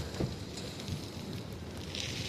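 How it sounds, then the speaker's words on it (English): Wind buffets a microphone during a bike ride through downtown Toronto among tall buildings, a steady low rumble with faint gusty swells and no clear other sounds. "It's windy and these buildings are not forgiving."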